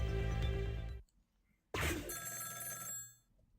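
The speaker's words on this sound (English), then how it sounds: "Somebody pick up that phone!" Telephone bell rings in the Ghost Trick: Phantom Detective video game, a loud ringing burst that cuts off, a brief silence, then a second ring that fades out.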